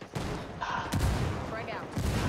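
Frag grenade explosions in Ghost Recon Wildlands sound as heavy booms amid scattered gunfire, loud and close, repeating through a busy game mix with speech underneath.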